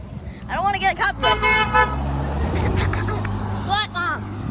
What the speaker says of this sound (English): They're gonna honk, for sure.